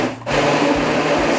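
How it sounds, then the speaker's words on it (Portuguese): A kitchen blender pulsing liquid batter ingredients for a chicken pie, a loud close motor whir that drops out briefly near the start and then runs steadily, with no talking. "vamos para o liquidificador. Então agora vamos, aqui começa, eu gosto de começar pulsando"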